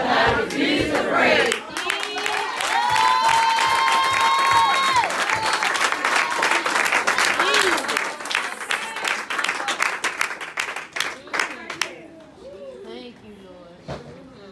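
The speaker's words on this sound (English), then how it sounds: "You just gave God a temporary clap." A church congregation claps in a loud, sustained burst while a preacher shouts over it; the clapping then thins into scattered claps and quieter chatter.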